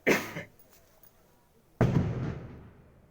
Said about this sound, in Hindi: आज नया साल है भाई, इसलिए पटाखे सब फोड़ रहे हैं